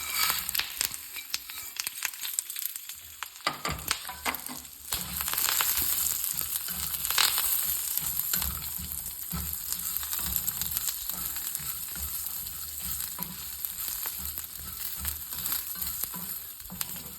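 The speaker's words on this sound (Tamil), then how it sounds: "எண்ணெயை விட்டு இதெல்லாம் வறுக்க போகிறேன்" Sesame, salt and grated coconut roast in hot oil, a steady close sizzle and crackle with scraping stirs running through the whole stretch and no voices.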